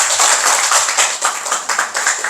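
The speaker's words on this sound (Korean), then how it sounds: "박수 한번 부탁드리겠습니다" A lecture audience applauds a guest speaker after a special lecture on government industrial safety policy. The steady, dense clapping is bright and close, with no voices over it.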